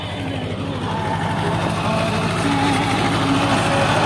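A Mahindra Jivo 305 DI mini tractor with a ratoon manager attachment runs in a sugarcane field, its diesel engine giving a steady, dense rumble that holds loud and constant throughout.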